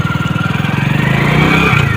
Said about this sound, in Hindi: तो बाइक को स्टार्ट कर लेता हूँ।